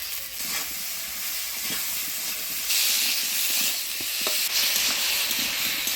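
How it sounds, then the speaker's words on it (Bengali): Potatoes fry in tempered oil in a village kitchen with a steady hiss and sizzle, broken by occasional soft scrapes of stirring, close and continuous without talk. "আলুটা ফোড়নের তেলে নাড়াচাড়া করে নিলাম"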